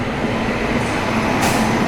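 Train hauled by a Kalyan shed WAP-7 electric locomotive approaching, a steady loud rail rumble with a brief hiss rising near the end.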